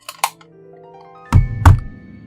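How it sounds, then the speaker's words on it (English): A game controller disconnecting during The Bureau: XCOM Declassified gives a few soft electronic blips, then two heavy, dull thunks close together, loud and with no talk. "I disconnected my controller, that's the sound you're hearing."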